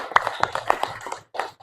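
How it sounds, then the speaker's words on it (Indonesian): A classroom claps for groups 2 and 6, a short burst of light, scattered handclaps at close range that stops briefly before a few more claps resume. "Yuk kita beri aplaus dulu, tepuk tangan untuk kelompok 2 dan kelompok 6."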